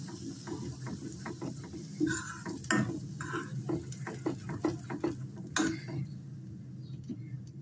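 Onion and dal sautéing in a pan for Maharashtrian katachi amti, with soft scraping stirs and a low sizzle running steadily throughout, fairly quiet and close, no voices.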